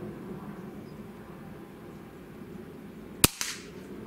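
A Diana LP8 Magnum Tactical Carbine .177 breakbarrel air gun fires once, a single sharp crack near the mic, followed a moment later by a smaller impact on a steel target, over quiet outdoor background hum.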